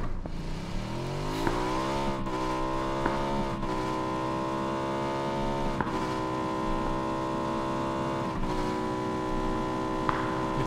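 Engine of a car driven in the PlayerUnknown's Battlegrounds video game, a steady loud drone with harmonic tones that rise as it revs up and shift with gear changes, running continuously with no talk.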